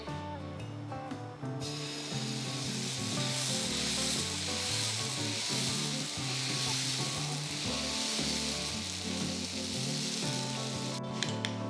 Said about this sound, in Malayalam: പാൻ ചൂടായി, ദോശ ഉണ്ടാക്കിയെടുക്കാം.